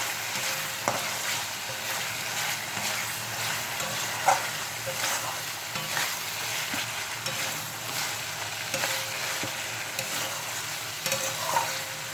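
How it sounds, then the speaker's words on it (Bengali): Masala paste for prawn curry fries in oil with a constant close sizzle and a busy crackle, while a spatula keeps scraping and stirring throughout; a few louder knocks stand out. "মশলাটা ভালো করে কষিয়ে নেব"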